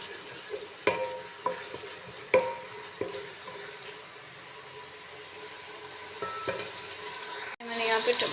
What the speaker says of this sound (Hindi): पहले मटर डाल के मटर की अच्छे तरीके से करेंगे भुनाई